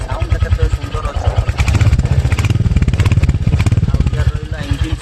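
A Royal Enfield Hunter 350 motorcycle runs with its single-cylinder engine and silencer exhaust thumping close and loud, a steady rapid pulsing beat with mechanical clatter throughout.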